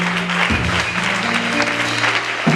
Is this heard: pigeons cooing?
no